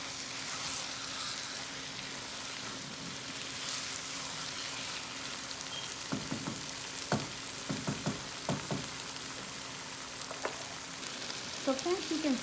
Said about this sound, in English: our chicken is very good frying with the oil masala